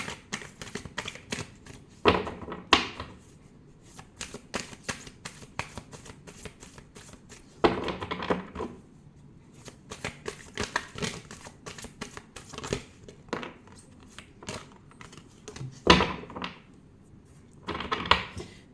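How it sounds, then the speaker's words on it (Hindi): Tarot cards shuffled by hand: steady riffling and flicking with louder crackling bursts every few seconds, close and fairly quiet, with no speech over it. "पहले हम कार्ड शफल करते हैं।"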